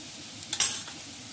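Brief burst of sizzling and stirring as tomatoes with salt, garam masala and amchur cook in a pan, a short loud crackle rising from a quiet kitchen background.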